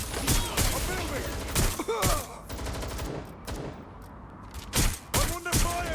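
Rapid bursts of gunfire in the open-world action video game Watch Dogs Legion, with repeated loud volleys and thuds over a busy game soundscape, without any talking.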